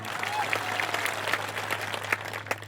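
Steady clapping from a crowd at a political speech in Naswadi, a dense patter of many hands with a low constant hum underneath.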